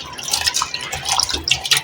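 Water drips and splashes as small and large green chillies are washed for storage, with close, irregular trickling and light plopping sounds.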